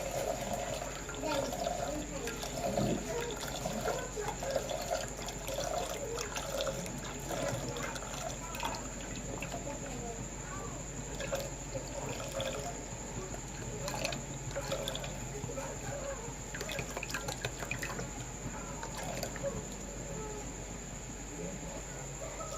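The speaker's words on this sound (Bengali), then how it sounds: "দুধটা আমি দিয়ে দিচ্ছি।" Milk is poured into a pot for mango payesh, a soft continuous liquid fill over a steady background hum, with a voice talking faintly over it.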